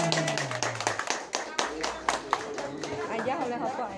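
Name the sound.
group applause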